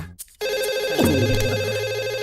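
A telephone rings loudly and steadily after a brief moment of quiet, a bright electronic trill continuing with no voices.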